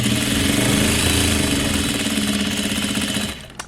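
A Juki DDL-8700 industrial sewing machine running at speed with a fast, even mechanical whir and rapid needle rhythm, close and loud, then winding down and stopping near the end.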